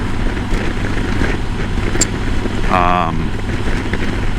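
A smooth, low 2021 Kawasaki Versys 1000 SE engine with an Akrapovic exhaust hums steadily throughout, fairly quiet, with a brief higher whine rising partway through.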